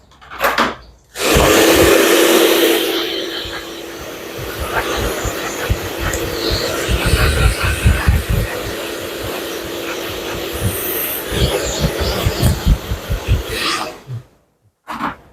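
A hair dryer blows steadily through a Thai salon haircut after a sliding layered cut, a continuous broadband whoosh that starts abruptly, runs loud and close for over ten seconds with shifting airflow, then cuts off.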